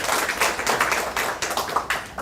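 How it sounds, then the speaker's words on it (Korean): A forum audience claps after a metaverse talk, a steady crowd of many hands clapping close by for about two seconds, with no speech over it. "메타버스 현황 분석 및 대응 방안 내용으로 발표해 주신 양희태 교수님께 다시 한번 큰 박수를 부탁드리겠습니다."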